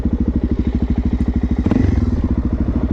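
A Suzuki DRZ400 motorcycle riding on a street, its single-cylinder engine thumping in a loud, rapid, even pulse close to the listener, briefly shifting pitch midway with wind rumble underneath.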